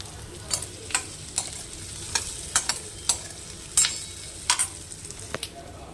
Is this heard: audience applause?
no